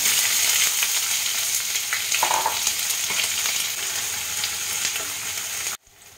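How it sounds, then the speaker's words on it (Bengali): Chopped onion sizzles steadily in hot oil with whole cumin, green cardamom, cloves and cinnamon, a dense continuous frying hiss with a few spatters, close and loud, cutting off abruptly near the end. "পেঁয়াজটা হালকা করে ভেজে নিয়ে আমি দিয়ে দেবো চিংড়ি মাছ"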